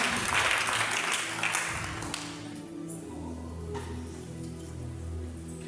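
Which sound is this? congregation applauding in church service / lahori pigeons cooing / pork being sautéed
congregation applauding in church service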